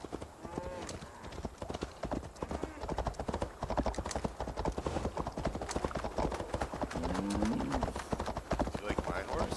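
Horse hooves clip-clop steadily through a scene in Assassin's Creed Valhalla, a continuous rhythmic trot under a layered game soundscape, with a brief whinny and talking voices over it.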